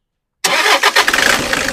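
A 2014 Toyota Innova 2.5 cranks briefly after a moment of silence and catches, settling into a close, steady idle with a pulsing mid-pitched engine note.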